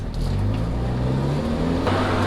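A car engine speeds up steadily, a close, loud, continuous drone rising in pitch, heard from inside the vehicle with no talking.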